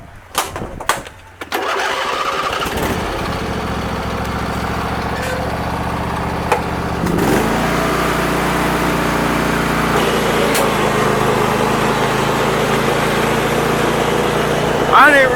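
A Husqvarna riding lawn mower engine cranks with a few sharp clicks, catches and settles into a loud steady running drone that rises slightly midway, with people talking over it.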